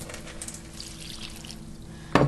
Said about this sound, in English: So I'm just going to add a little water.